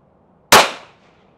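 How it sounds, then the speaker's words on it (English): A single handgun shot rings out on a firing range, one sharp, loud crack that decays quickly after a quiet moment. "And one more shot."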